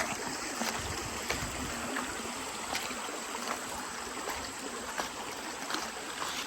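Creek water flowing steadily at Belle Creek in Dixie, West Virginia, a continuous broad rushing and babbling wash with small splashes, close and moderately loud, alone without talk.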